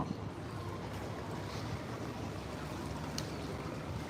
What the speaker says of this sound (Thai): นี่จะเป็นเรือไฟฟ้านะครับมาแล้ว